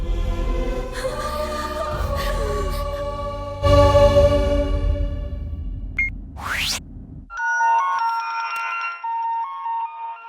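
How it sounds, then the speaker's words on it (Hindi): A mobile phone rings with an incoming call: a bright, melodic electronic ringtone repeats a short tune near the end, after a stretch of swelling dramatic background music and a sweeping effect. "संध्या का फोन आया।"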